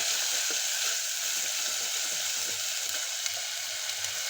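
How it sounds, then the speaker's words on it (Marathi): A ground paste of green chilli, garlic, onion and coconut sizzles steadily in hot oil, a continuous close crackle with faint stirring scrapes throughout and no talk. "आता याला तेल सुटेपर्यंत परतून घ्यायचं आहे"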